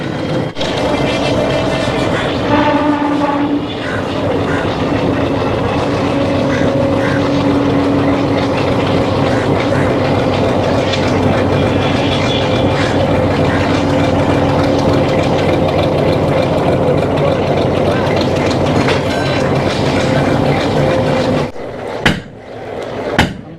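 Diesel locomotive hauling a Nilgiri Mountain Railway train out of Coonoor toward Ooty: a steady, close, heavy engine rumble runs continuously for over twenty seconds before dropping away abruptly near the end, with no talk.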